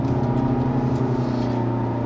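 A 2016 Honda HR-V engine accelerating, heard from inside as a steady droning hum with a smooth, even tone that builds slowly and holds at a constant loudness throughout.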